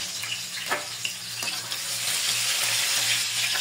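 Banana cue, battered saba banana slices, frying in hot oil over a strong flame, giving a steady, dense sizzle close up with a few faint scrapes, growing slightly louder toward the end.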